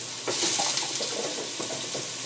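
Garlic and onion tumble into a hot pan with seared corned beef, setting off a loud, steady sizzle and fry with clattering stirring noises, close by and without talk.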